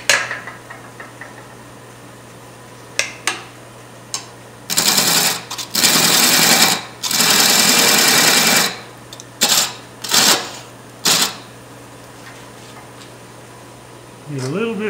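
A wood lathe turns a wooden cube at about 700 RPM with a low, steady hum throughout. Intermittent bursts of loud, rough cutting noise break in, some brief and some lasting a couple of seconds.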